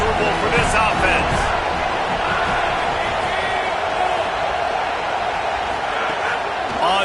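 Steady roar of a stadium crowd at a college football game, dense and sustained throughout with scattered shouts and whoops rising from the mass of voices.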